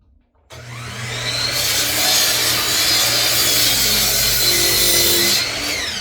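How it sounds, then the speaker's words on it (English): A saw in a small woodworking shop spins up abruptly and cuts through a piece of wood, a loud, steady whining roar with a humming motor underneath, easing slightly near the end. "I'm gonna cut a piece over here on the saw."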